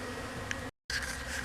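Honey bees buzz at a hive in the snow after a cold snap, a dense, close insect drone that cuts out for a split second before resuming.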